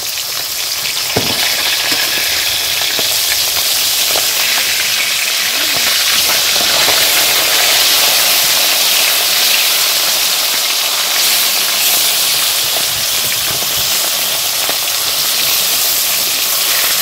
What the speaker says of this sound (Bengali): এদিকে আমি এই যে মাছটা দেখো ভাজা করতে বসিয়ে দিয়েছি